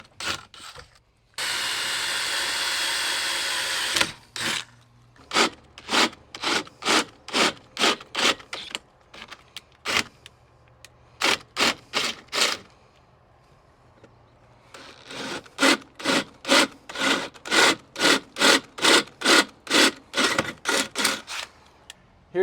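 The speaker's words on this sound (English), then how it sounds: "when you're drilling through your roll cage" A drill bores through a steel roll cage tube on a CFMOTO UForce U10 PRO in a long continuous whir, then a steady series of short, rhythmic bursts with brief pauses between them.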